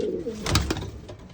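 Cuban Thief Pouter pigeons in a loft give one short, close, fairly loud coo over a low rumbling backdrop.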